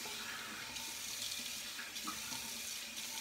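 Tap water runs steadily into a sink to rinse a Vikings Blade The Chieftain safety razor, a faint, even splashing stream heard alone.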